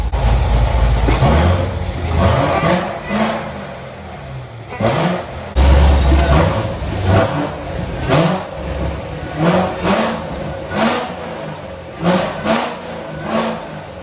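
A Corvette C7 Z06 fitted with a Magnuson 2650 supercharger and stage 2 cam revs repeatedly at moderate RPM, loud and close, its idle lope broken by a series of sharp throttle blips with no talking.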